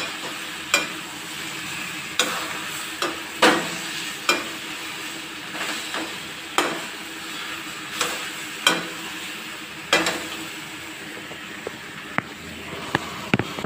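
Jackfruit frying in a spiced masala, a steady soft sizzle under repeated sharp spoon scrapes and clanks against the pan as it is stirred, close by and with no talking.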